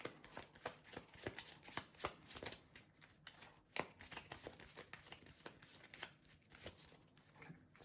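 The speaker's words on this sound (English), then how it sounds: "shuffling Thor's deck really good" A deck of game cards for a Marvel Team-Up card game is riffled and shuffled up close, a quick series of crisp flutters and taps repeating steadily without talk.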